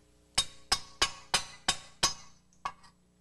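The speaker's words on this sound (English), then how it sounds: "with our punch remove the rivets" Punch being hammered to drive rivets out of an upper control arm: six sharp metallic strikes at a steady rhythm, then a short pause and a final blow, close and ringing.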